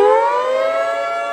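A loud, sustained siren wails steadily with a slowly falling pitch, rich in harmonics and filling the whole clip.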